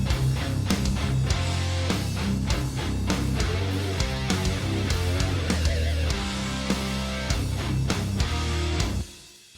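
A drum kit mix with light mastering to widen it plays a steady, dense groove of kick, snare and cymbals, loud and full throughout before cutting off at the end, with no voices.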